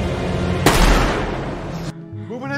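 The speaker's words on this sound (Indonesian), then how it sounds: "Polisi datang dengan sebuah tembakan yang berhasil melumpuhkan si rampok" A single loud gunshot rings out in a crime film as police arrive to stop a robber, bursting abruptly and trailing a long, rough roar before cutting to quieter voices.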